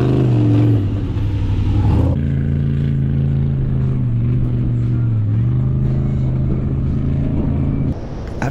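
An overlanding off-road vehicle's engine roars steadily at close range in desert sand, pitch shifting as the throttle rises and eases while the wheels spin, with rumbling and clatter from the drivetrain.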